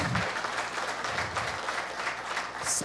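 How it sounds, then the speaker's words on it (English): An audience at a tax conclave gives sustained, dense applause welcoming the chief guest, a continuous roomful of clapping at moderate level with no voices above it. "Let us all welcome with a thunderous applause Shri Amit Jain."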